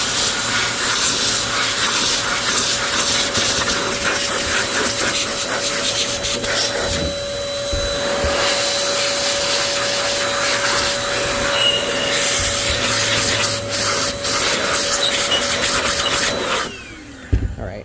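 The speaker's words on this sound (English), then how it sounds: "let's turn it this way and then blow it again so that way all the stuff can fall down" Air is blown steadily to clean dust and debris out of a bug-infested PS5 console, a loud, continuous hissing rush that holds for most of the time with a short dip partway through, then cuts off near the end.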